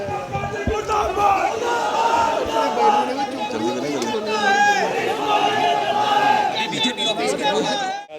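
A protest march crowd in Jammu, many voices shouting and chanting together in a loud, continuous mass with overlapping cries throughout.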